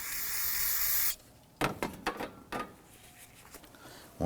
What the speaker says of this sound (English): Use some spray solvent on a rag.